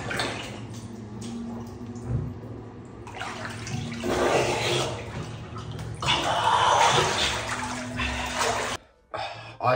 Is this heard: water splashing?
yes